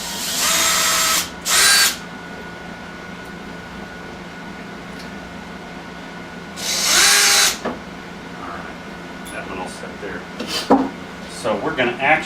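Power drill driving long fasteners into a rotary phase converter, in three loud bursts, two close together near the start and one longer run midway, with quiet pauses and small tool clatter between.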